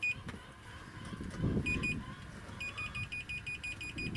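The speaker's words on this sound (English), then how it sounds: "lo and behold, it makes the beeping noise" Repeated short electronic beeps from a voltmeter on continuity setting as its probes touch wires during a Suburban Nautilus IW60 water heater install, a quick intermittent pattern, fairly clear over background rumble.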